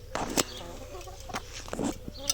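Backyard hens clucking in short bursts, a few close clucks and squawks spaced across a quiet outdoor background, no talk.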